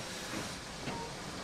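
A steam train sits at a railway station, letting out a soft, continuous hiss of steam that stays faint and fairly distant throughout.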